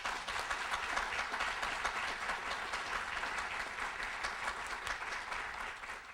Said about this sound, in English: Let's give all of the participants a round of applause.